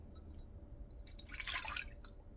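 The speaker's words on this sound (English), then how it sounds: "a cup of water that's nice and pleasantly warm to the touch." Warm water is poured into a cup for pizza dough, a short, faint liquid trickle that rises briefly in the middle of a quiet room.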